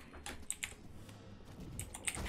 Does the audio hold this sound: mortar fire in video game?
no